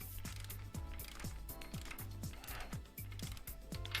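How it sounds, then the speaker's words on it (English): A ratcheting torque wrench tightens bolts one after another in a garage, giving steady rapid clicking in repeated strokes of about half a second, close and fairly loud throughout. "So we'll torque in sequence"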